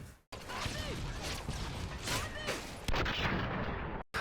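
Gunfire from a video game trickshot, a dense burst of loud, cracking shots filling most of the few seconds with no voices.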